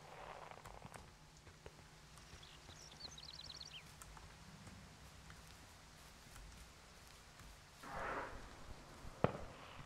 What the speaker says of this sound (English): Oh, that must be the fireworks.